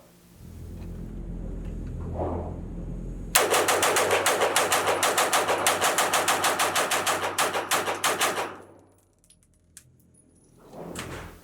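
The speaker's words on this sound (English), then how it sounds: "can I see the obligatory mag dump? Well, yeah, here you go." A CMMG Banshee 9mm AR-9 rifle fires a rapid magazine dump at an outdoor range: a single long, loud burst of fast, evenly spaced shots lasting about five seconds, then quiet with faint clinks.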